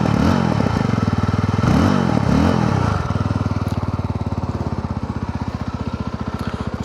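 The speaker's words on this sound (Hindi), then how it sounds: "सबसे पहले आपको इसका एग्जॉस्ट सुना देता हूँ कि साउंड कैसे करती है।" Yezdi Roadster motorcycle starting and revving, its exhaust thumping in a loud, close, throbbing pulse that surges through a few revs before settling into a steady, rapid idle beat.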